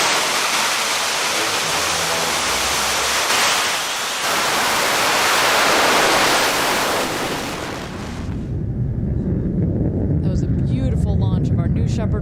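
Blue Origin New Shepard rocket engines roar at launch from West Texas, a loud broadband rumbling blast that swells and then gives way to crackling, with a voice speaking over it.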